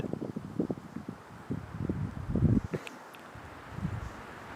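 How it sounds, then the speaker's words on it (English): Night wind by a wet shoreline blows in uneven low buffeting gusts against the microphone, swelling and dropping across the stretch, with a brief lull near the end. "And occasionally you get a gust."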